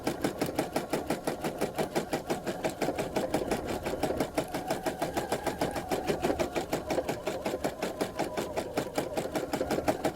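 Sewing machine running steadily for free motion quilting on a blackbird quilt, a fast, even mechanical chatter of the needle that continues without pause, close and clear.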